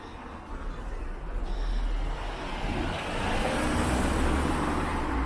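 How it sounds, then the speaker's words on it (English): A car approaches and passes close by on a road in Richmond upon Thames, London, its engine and tyre noise swelling steadily louder over the outdoor background. "Car coming."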